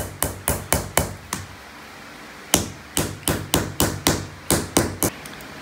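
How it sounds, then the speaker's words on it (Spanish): A series of sharp hammer blows on leather edges over wood, two bursts of rapid, evenly spaced strikes separated by a short pause, close and loud. "Martillo bien los bordes, cosa que se adhiera bien el cemento."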